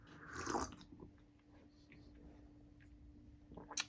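Someone bites and chews a piece of coconut at a cocktail-making session, a loud crunchy bite near the start followed by quieter chewing, with another burst of crunching at the end.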